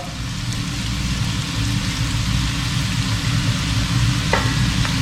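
A steady sizzle of noodles pan-frying in oil in a wok, with a low rumbling hiss throughout and a couple of faint scraping clicks near the end.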